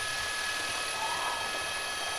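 A helicopter is tracking a Hyundai westbound on Hart Street in a police pursuit, its steady rotor and engine drone holding evenly throughout with a constant broadband wash and no talk over it.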